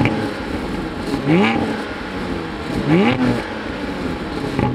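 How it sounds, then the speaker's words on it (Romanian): Porsche 718 Cayman GT4 (2020) with its mid-mounted engine ahead of the rear axle, two quick rising revs with an aggressive tone over a steady background rumble, heard close. "motorul care se află în fața punții spate și scoate un sunet destul de agresiv"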